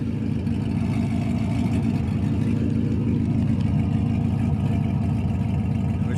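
Idling engine of a first-generation Cadillac CTS-V, a steady, loud low rumble held evenly throughout with no voices.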